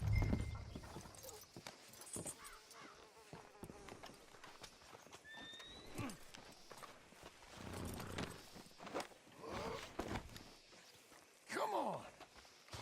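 Hooves clop at an unhurried walking pace in Red Dead Redemption 2, with a horse's whinny and snorting breaths rising over them amid ambient game sounds.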